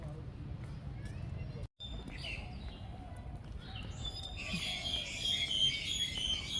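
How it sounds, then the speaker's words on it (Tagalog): Birds chirp and tweet in the background, growing busier toward the end, with people talking over them. "Ay, nadidinig natin ng mga huni ng ibon."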